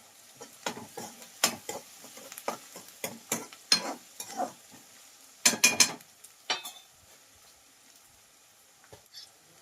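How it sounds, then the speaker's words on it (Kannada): Ingredients being sautéed and stirred in a pan in a home kitchen, with quiet oil sizzle beneath irregular scraping and clacking of a spoon against the pan, close and intermittent, busier in short clusters. "ಸ್ವಲ್ಪ ಇದು ಎಲ್ಲ ಹಸಿ ವಾಸನೆ ಹೋಗೋ ಮಟ ಸ್ವಲ್ಪ ಬಾಡಿಸ್ಕೊಂಡು"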